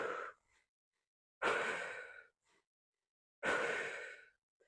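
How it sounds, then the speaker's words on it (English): Deep breathing during a guided breathing meditation: two long, forceful exhales pushing all the air out, each lasting about a second, close and alone with quiet pauses between them. "you're pushing all the air out through exhale"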